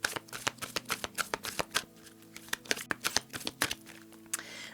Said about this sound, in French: On va prendre une carte du chakra cœur.